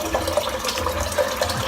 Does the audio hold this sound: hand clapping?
no